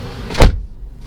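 A car door on a 2023 Mitsubishi Montero Sport Black Series Ralliart swings shut with one solid, close thud, followed by a brief quiet settle.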